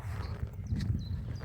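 A loose horse walks close by on a path near the Hérisson waterfalls in the Jura, its hooves giving soft, irregular clip-clops over a low rumbling background with faint birdsong.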